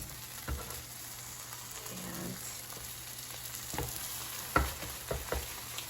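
Grilled cheese sandwich frying in a hot pan, a soft steady sizzle throughout with a few sharp clicks and taps near the end, no voices.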